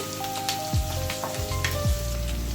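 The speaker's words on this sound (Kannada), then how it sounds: "ಚೂರು ಫ್ರೈ ಆಗಲಿ." Moringa and crushed garlic sizzle in a pan over steady, soft frying crackle, with occasional faint stirring clinks and a low background hum.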